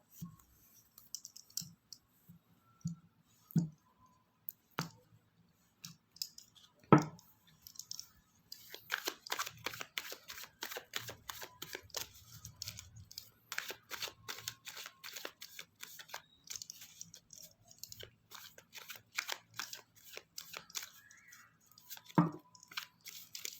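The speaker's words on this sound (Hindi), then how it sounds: "कार्ड्स को हम अच्छे तरीके से शफल करेंगे।" Tarot cards shuffled by hand in a run of quick, dense riffling clicks and flutters, close and fairly quiet, with a few sharper taps between bursts and no talking.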